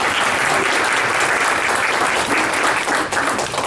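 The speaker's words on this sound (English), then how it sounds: "Please give a round of applause for" Loud, sustained applause from a large audience, steady clapping filling the whole stretch without letting up.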